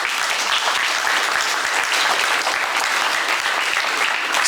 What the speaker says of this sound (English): Come on, you can clap.